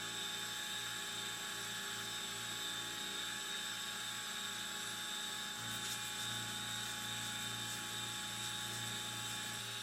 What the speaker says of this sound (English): I'm going to set it up with a milling cutter and mill out the center portion